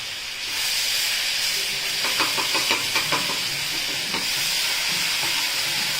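Homemade ginger garlic paste hits hot mustard oil and sets off a sustained sizzling hiss with scattered crackles and pops, close and fairly loud, with no talking.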